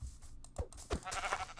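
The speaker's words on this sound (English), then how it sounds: "I can kill these sheep to get some" A sheep in the Minecraft video game gives a short bleat, fairly faint, amid low game background noise.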